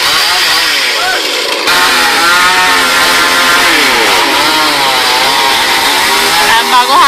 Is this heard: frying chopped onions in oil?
no